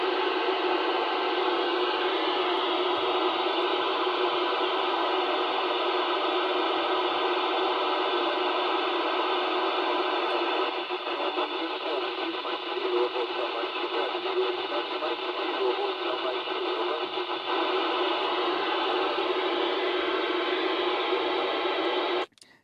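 A Motorola GM350 tuned to the 4-metre amateur band hisses with steady, loud static for over twenty seconds, a dense rushing noise carrying faint buzzing tones and no clear voice before it abruptly cuts off.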